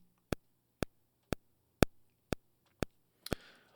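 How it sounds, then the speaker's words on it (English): MPC Beats software metronome at 120 BPM: sharp, evenly spaced electronic clicks at a steady half-second pulse, about seven in all, with a faint noisy rustle near the end. "we want to make sure our metronome is on there and it will sound something like this."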